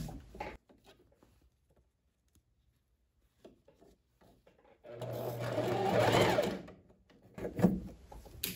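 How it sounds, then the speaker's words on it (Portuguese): A sewing machine runs a straight seam joining a long puffed sleeve to a blouse armhole, a close burst of rapid stitching lasting a few seconds after quiet handling noises, with no talking. "Fazer aqui a costura reta de união."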